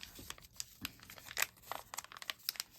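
Mini Brands plastic packaging being cut open by hand, a quiet run of crinkles, small tears and snips, close up with no talk.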